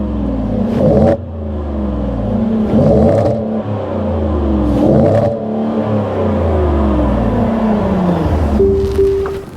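A Ford F-150 XLT's Coyote V8 revs hard several times in a row, each loud blip swelling and falling away, with a steady idle rumble between pulls and no talking.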